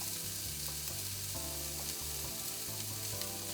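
A burger patty sizzles in a big frying pan, giving a steady, close, continuous crackle with no talking over it.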